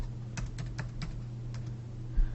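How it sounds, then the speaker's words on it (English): A course number is tapped out on a computer keyboard in a quick run of separate keystrokes over a steady low hum, close and clear, with no talking. "once I finish typing the CRN"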